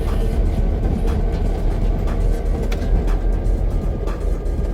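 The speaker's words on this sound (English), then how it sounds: "Driving a locomotive." A locomotive rolls along with a deep, steady rumble and low mechanical drone, loud and close with no voices.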